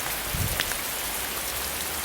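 Heavy rain pours down in a Ukrainian village at the end of autumn, a dense, steady hiss of drops hitting surfaces close by, with one brief louder patter and no voices.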